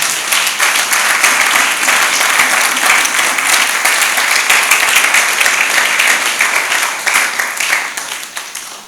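A church congregation claps loudly and continuously for the Lord, a dense wash of applause that holds strong and then begins to fade near the end.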